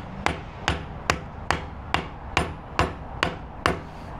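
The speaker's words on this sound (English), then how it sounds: "Trusty Cook hammer, by the way." A Cook hammer strikes sheet metal while bending a panel on a rusty 1962 Chevy C10 pickup, giving nine sharp, evenly spaced metallic blows in a steady rhythm, loud and close with no talking.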